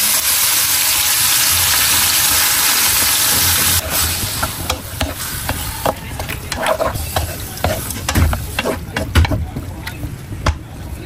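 Chicken liver and gizzards hit a pan with sautéed garlic, onion and ginger, a loud, steady sizzle at first that gives way to spoon scrapes and stirring clatter.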